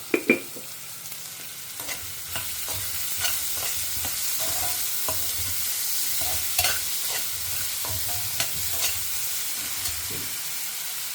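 Onions fry in a hot pan for a Tamil methi kadi, with a steady sizzle throughout and repeated spoon scrapes and stirs that begin with sharp clanks.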